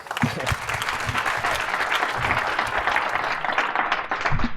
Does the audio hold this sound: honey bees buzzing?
no